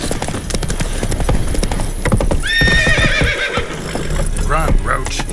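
Roach, the horse in The Witcher 3, galloping with loud rhythmic hoofbeats, joined midway by a clear neigh and snorting, while a voice speaks over it.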